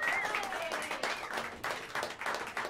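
Many hands clapping for a bassist at a live jazz club, a full, close round of applause with sharp individual claps and a whistle near the start, holding strong to the end.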